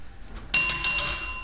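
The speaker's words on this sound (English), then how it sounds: "You may also ring the bell." A bell rings in a stage production of The Importance of Being Earnest, struck sharply with a bright, sustained metallic ring that carries on after a quiet pause.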